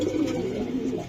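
A racer pigeon gives a low, throaty coo, close and clear, for about a second, with no talking over it.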